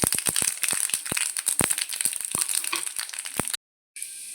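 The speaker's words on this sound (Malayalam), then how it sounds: "ഉലുവയും കടുവൊക്കെ നന്നായി പൊട്ടി വന്നിട്ടുണ്ട്" Mustard and fenugreek seeds pop and splutter rapidly in hot oil with onion, a dense run of sharp crackles over a sizzling hiss that briefly cuts out.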